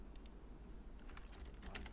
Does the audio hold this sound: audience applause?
no